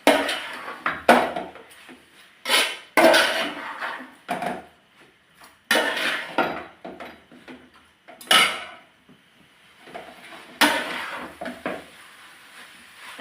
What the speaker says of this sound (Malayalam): നന്നായി ഒന്ന് നമുക്കിത് ഇളക്കിയെടുക്കണം.